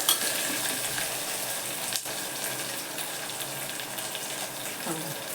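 Tondli (ivy gourd) sautéing in a pan for spiced tondli rice makes a steady, moderate sizzle with soft stirring movement and a brief clatter near the end.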